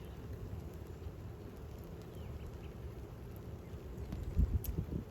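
Steady rain falls outside during a storm that has grown to a severe thunderstorm warning with a tornado watch, a dense continuous hiss with a few louder thumps of drops near the end and no talking.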